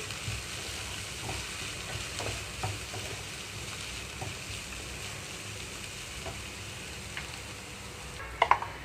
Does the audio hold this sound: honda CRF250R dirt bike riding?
no